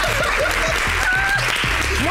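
Audience applause at a light-hearted French-language political gossip show, steady clapping mixed with laughter and overlapping voices throughout.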